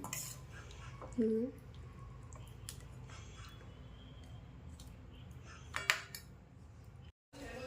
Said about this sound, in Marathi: भाजी मी तुम्हाला एका बाउलमध्ये काढून दाखवते